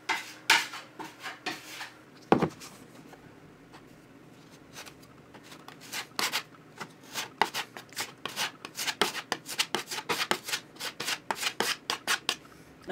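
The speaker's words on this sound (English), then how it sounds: "I'm using a 240 grit sandpaper. This should be more than enough just to give it a good sand." Dried filler being hand-sanded with 240 grit sandpaper on a home-built cockpit platform, a run of rapid scratchy rubbing strokes, close and fairly loud, with pauses between bursts.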